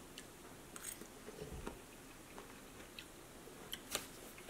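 Someone quietly chews steamed broccoli from a frozen Marie Callender beef bowl, soft crunchy bites spread over a few seconds, close but faint, with no talk.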